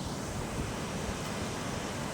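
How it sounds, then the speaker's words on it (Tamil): Swollen river floodwater rushing past near the Javadhu Hills, a steady, dense broadband roar of moving water with no pauses, close and continuous throughout. "ஃப்ரெண்ட்ஸ் எவ்வளோ தண்ணி போயிட்டுருக்கு பாருங்களேன்"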